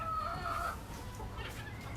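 Chickens cluck and squawk inside a chicken coop that also houses a few turkeys, with a sharp, drawn-out call up front, then softer clucking, close by.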